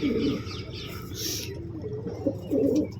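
Pigeons let out of their coop give soft, low cooing calls in short bursts, fairly close, with a brief wing flutter or rustle partway through.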